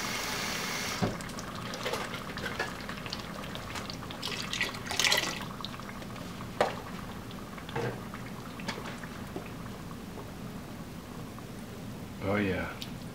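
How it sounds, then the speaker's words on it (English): Water is poured into a pot of tomato sauce left to simmer for meatballs, giving a soft, steady liquid wash with a few brief splashes and a louder gurgle near the end. "Now I'm just going to add a little bit of water because this is going to simmer for a while."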